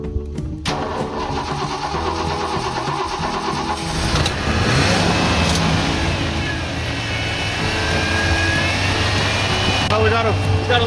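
A Ford F250 Super Duty truck with a low battery and a fuel leak starts: a click, then several seconds of cranking that catches into a louder, rougher running engine that keeps going to the end.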